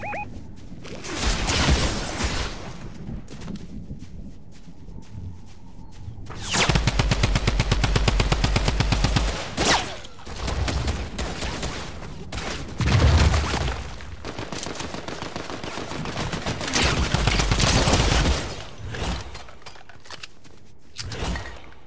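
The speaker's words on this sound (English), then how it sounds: "Oh, I'm getting shot at." Rapid automatic gunfire in a Fortnite match comes in bursts of dense, crackling shots separated by short pauses, loud and close.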